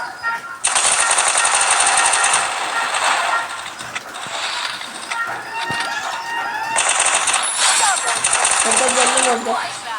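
Loud bursts of rapid automatic video game machine-gun fire rattle in two long stretches, with a voice talking between and under the shooting.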